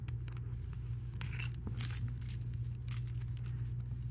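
Apartment keys jangle in short metallic bursts, up close and fairly quiet, over a steady low hum, with no talking.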